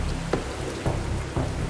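Heavy monsoon rain pours down in Maharashtra, a loud, continuous wash of hiss broken by a few dull thuds from nearby drops or gusts.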